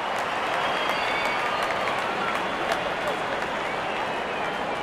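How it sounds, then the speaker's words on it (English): Crowd applause and cheering from the stadium in the cricket video game Real Cricket 24, a steady dense roar of clapping that holds at even loudness throughout, as if greeting a batsman reaching fifty. "gets a grand applause"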